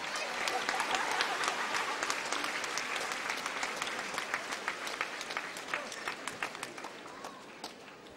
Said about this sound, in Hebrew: הנה תנו לה מחיאות כפיים